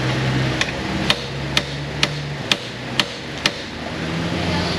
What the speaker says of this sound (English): I'm just going to put an extension here just so I can hammer it a little better